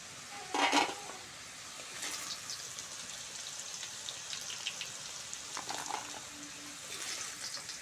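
Potato pieces fry in hot oil with a soft, light sizzle and a few brief scrapes and stirring clinks, faint and alone without speech.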